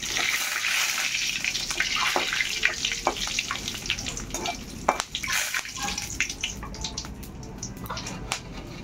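Dried red chillies and bay leaves crackling in hot oil in a home kitchen wok, a soft continuous sizzle dotted with sharp pops and spits, fairly faint.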